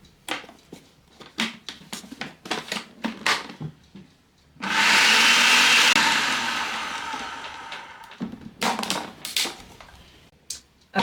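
A food processor whirs monk fruit sweetener for gluten-free baci di dama dough in one loud continuous run of about four seconds, with a person talking before and after.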